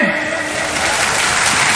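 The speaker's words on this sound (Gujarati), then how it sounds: "આપણે સૌ તાળીઓના ગડગડાટથી વધારીએ." A crowd claps continuously and loudly throughout, a dense roar of applause at a Buddhist initiation ceremony honouring Dr. Babasaheb Ambedkar, with no break in the clapping.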